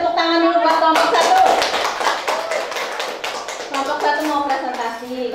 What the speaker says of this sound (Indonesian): kita beri tepuk tangan dulu buat kelompok 1